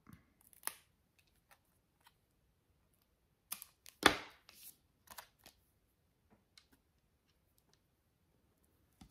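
Scissors trim excess material off a vintage handmade gift project, giving a few sharp, close snips. The cuts come as isolated clicks, with one louder cluster in the middle and long quiet gaps between them.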